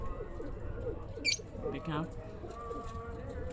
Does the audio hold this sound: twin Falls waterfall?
no